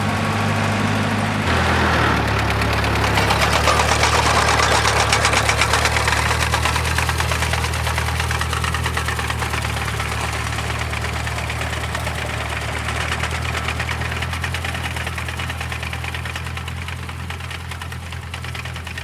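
A rock bouncer runs hard in first gear while its sickle bar cuts hay. The engine drones loudly and steadily with a knocking beat, and the tone shifts early on before holding a strong, constant run.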